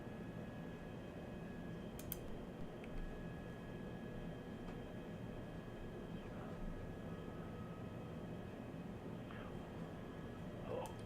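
A steady, distant engine drone hangs in the background from a police helicopter circling overhead during a police chase in Baltimore, fairly faint and continuous.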